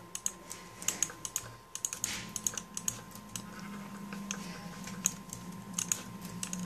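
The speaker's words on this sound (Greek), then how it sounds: "Κι άλλος κάθεται και πατάει κλικ όλη την ώρα" A computer mouse is clicked repeatedly during Minecraft play, giving sharp, close, irregular clicks in quick bursts over a faint electrical hum.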